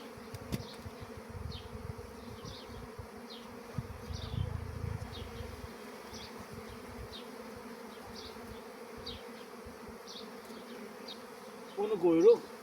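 Honey bee swarm being captured into a hive box, a steady close buzzing hum throughout with scattered bees flying past, some handling thumps early on and a louder burst of buzzing near the end.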